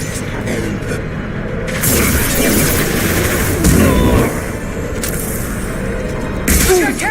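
Booming impact explosions and weapon fire in the video game Mass Effect 2, loud blasts swelling over a dense stream of battle noise.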